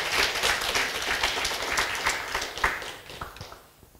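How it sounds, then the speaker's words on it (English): An audience at a talk claps warmly for an incoming speaker. The applause is full and steady at first, then thins out and fades toward the end. "So please give a warm applause for Julia."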